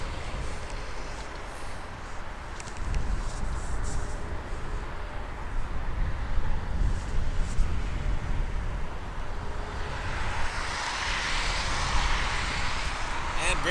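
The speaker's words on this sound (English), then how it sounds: "British 5 Charlie Alpha 777-200 is taxiing on Foxtrot on its way for departure" A British Airways Boeing 777-200 taxiing for departure at Toronto Pearson Airport at night, a steady broadband jet engine rumble and whine that holds at a moderate distance and builds slightly in the closing seconds.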